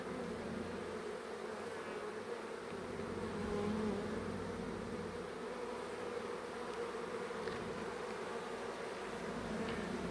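A swarm of bees buzzes continuously at close range, a steady droning hum with small swells as individual insects move about, no talking.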